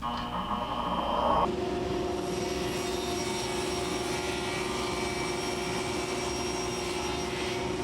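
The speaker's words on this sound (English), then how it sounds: "Set your blade to the right height and make your first pass." A table saw makes a pass through a board guided by a miter gauge: a loud, steady motor whine with a sustained hum runs unbroken from start to finish, shifting slightly as the cut begins.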